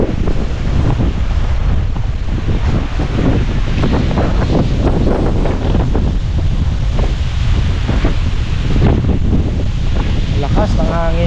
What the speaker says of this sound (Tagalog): Lakas ng hangin ngayon.